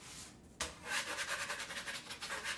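Stuck gluten-free pie dough being scraped off a work surface for a coconut cream pie, a quiet rasping scrape that starts abruptly and continues in short rhythmic strokes close by.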